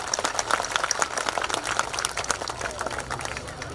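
An audience claps together at a school prize-giving for an inter-house annual cultural competition, with steady dense applause filling the hall from start to finish and some voices mixed in underneath.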